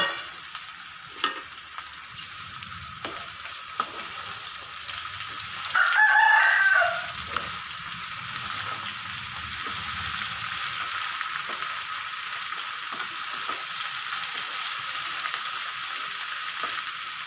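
Chopped ivy gourd pieces frying in a pan, a continuous bright sizzle with intermittent stirring scrapes; a rooster crows loudly in the background partway through.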